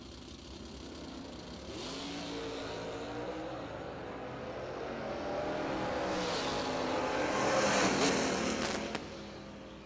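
Drag racing Camaros at a drag strip, engines revving and idling at the line before launching, the roar building and growing louder and rising in pitch, with a sharp burst near the end.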